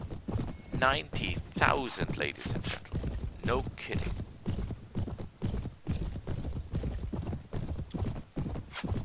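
Rhythmic horse hoof clip-clops from the video game Mount & Blade run steadily under someone talking, with an occasional whinny and creaks of tack.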